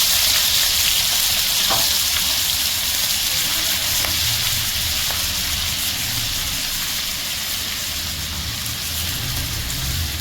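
Ginger garlic paste fries in hot oil in a pan for pumpkin curry, giving a dense, continuous, even sizzle with occasional faint stirring clicks, close and steady throughout.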